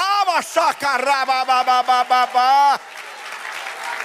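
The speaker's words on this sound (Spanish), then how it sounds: "Denle un aplauso al Señor" A loud voice calls out in rhythmic bursts, followed by a short stretch of crowd applause.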